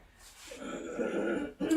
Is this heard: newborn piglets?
no